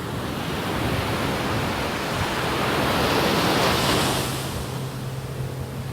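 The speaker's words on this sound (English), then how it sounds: "Ocean." Ocean waves washing onto a beach, a broad continuous roar of surf that swells to a peak midway and eases off, fairly loud with wind mixed in and no voices.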